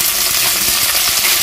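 Chopped tomato dropped into onions frying in oil for a Bengali potol chingri (pointed gourd and prawn) curry, giving a steady loud sizzle with small clicks and stirring scrapes throughout.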